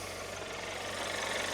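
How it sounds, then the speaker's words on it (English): An Audi A1 engine idles in neutral with a steady low hum and faint even vibration, constant and unchanging for a short stretch with no talk over it. "now as you can see the car is in neutral, the engine is running"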